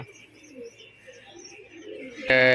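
Pet fancy pigeons coo in a home loft, soft throaty calls repeating close by, with a brief louder burst near the end.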